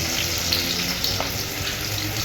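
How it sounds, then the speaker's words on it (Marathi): Garlic frying in a pan at home, a steady close hiss and crackle of oil with a few faint clinks, no talking. "असा लसूण छान असा भाजला की मग कांदा टाकायचा"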